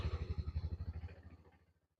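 A Yamaha motorcycle engine putters in a steady, quick low thump for about a second, then slows and dies away as it shuts off. The sound is close and quiet, with no talk.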